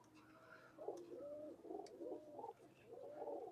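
Pigeons at a loft in Khulna, a few soft, low coos repeating at moderate distance against a faint background hum, with no talking.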